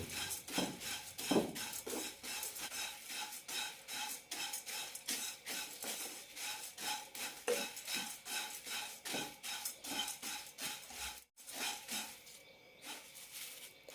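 Flattened rice (aval) is dry-roasted and stirred in a pan over low flame until crisp, making quiet, steady, rhythmic scraping and rustling strokes that repeat evenly with no voices.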